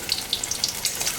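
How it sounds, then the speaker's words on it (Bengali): Fried paneer pieces are dropped into water during home cooking, giving a steady bright hiss with small bubbling bursts, close and continuous, with no talking. "পরে পনিরটা ভাজা হয়ে গেছে, আমি এখন তুলে নিলাম। জলের মধ্যে দিয়ে রাখবো"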